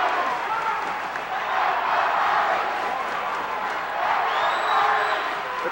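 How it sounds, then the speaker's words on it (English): A lively high school wrestling crowd in a gym at a Camden Catholic vs. Kingsway match, sustained cheering and shouting at a steady roar that swells near the end. "The crowd is in mid-season form also for the first match of the year."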